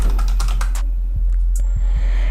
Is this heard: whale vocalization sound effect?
no